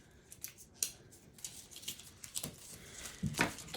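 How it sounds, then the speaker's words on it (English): Scissors are picked up and snip laminate sticker sheet in faint, close, irregular clicks and cuts, a few sharper snaps among soft handling rustle. "let me just grab a pair of scissors real quick here"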